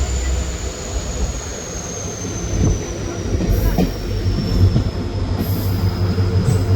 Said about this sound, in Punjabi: ਲੋ ਜੀ ਸਪੀਡ ਫੜ ਲਈ ਆ ਤੇ ਆਪਾਂ ਨਿਕਲ ਚੱਲੇ ਆ ਕੌਲੀ ਰੇਲਵੇ ਸਟੇਸ਼ਨ ਤੋਂ ਬਾਹਰ